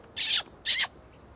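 A person mimics an owl call at night in a wetland bird reserve, giving two short breathy hoots a beat apart, fairly close and clear over quiet background.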